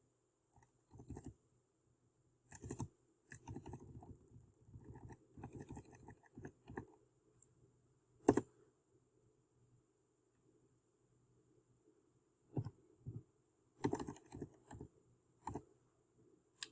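Typing on a computer keyboard comes in quiet clusters of quick key taps with gaps between them, close and soft, along with a single sharper click.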